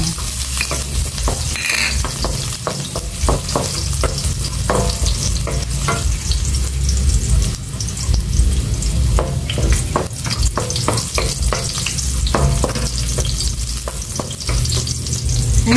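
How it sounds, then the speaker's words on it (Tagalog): Garlic fries loudly in a hot pan in a dense, continuous sizzle, with frequent spatula scrapes and clacks as it is tossed throughout. "Igisa ko na itong bawang."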